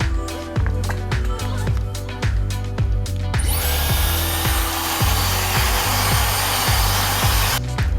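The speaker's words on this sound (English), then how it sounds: "I'm gonna rough blow dry it a little bit" A handheld hair dryer roars on loudly, rough blow drying a client's hair at a salon, running steadily for several seconds after brief clattering, then cutting off near the end.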